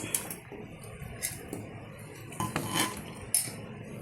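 Fish biryani rice is spooned into a dish, with a few sharp clinks and scrapes of a metal spoon against the dish, close and fairly quiet.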